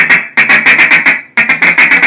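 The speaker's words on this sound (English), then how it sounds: "whether you have the chuckle feed call" Chuckle feed call blown on a duck call, quick rhythmic bursts of clucking notes in two groups with a short gap, loud and close, no talking.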